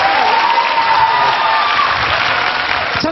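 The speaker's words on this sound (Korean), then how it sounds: "다시 한번 큰 박수 부탁드립니다" A studio audience at a televised music competition claps loudly and steadily, a thick wash of applause with a faint tonal sound running underneath and a slight dip toward the end.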